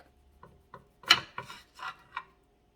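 A knife slicing Roma tomatoes on a board, a handful of distinct close rasping cuts and soft thuds at an irregular pace, with no talking.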